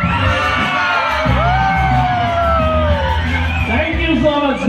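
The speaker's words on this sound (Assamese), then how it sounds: "নিজৰ বাবে হাত চাপৰি আৰু চিঞৰ এটা" An audience at a magic show cheers, whoops and shouts loudly and continuously, with excited children's voices rising over the steady crowd roar.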